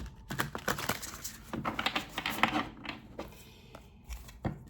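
Oracle cards being shuffled by hand, a soft, close run of papery riffles and taps in quick bursts, with no talking.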